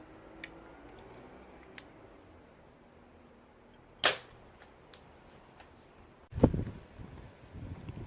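A Webley Hurricane air pistol fired with RWS Superdome pellets: a sharp, short crack, then a second, heavier thump a couple of seconds later, against a quiet background.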